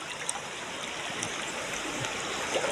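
River water flowing steadily, a continuous close rushing and trickling wash with small gurgles, no voices present.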